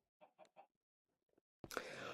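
A chicken in the Minecraft video game gives a few quiet, short clucks, then a louder, harsher burst of clucking closes the clip.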